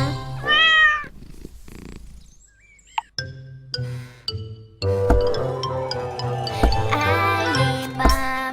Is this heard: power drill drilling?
no